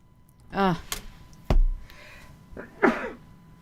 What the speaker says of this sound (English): I sneezed on my elbow